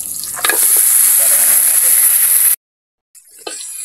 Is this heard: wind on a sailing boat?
no